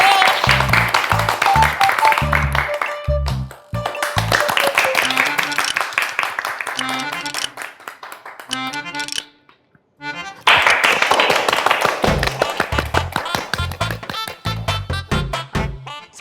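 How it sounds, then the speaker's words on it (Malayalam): Audience applause for the first-prize winner of a poetry-writing competition on a Malayalam comedy TV stage, dense clapping swelling loudly across most of the stretch with a brief lull in the middle, mixed with background music and stage sound. "കൈയടി."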